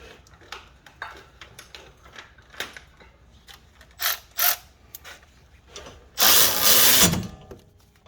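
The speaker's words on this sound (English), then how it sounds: "wiggle the brake line while tightening down the 12 mil" A 12 mm bolt on a 2017 Nissan 370z front brake line is tightened with a ratchet, giving scattered clicks and short metallic ratcheting runs, close and alone, with one longer, louder burst near the end.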